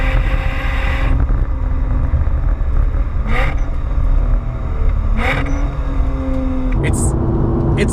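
A Lotus Evora 2+2 V6 engine rumbles steadily from inside the car, exhaust burbling with shifting pitch as revs rise and fall, over constant road noise with brief higher bursts.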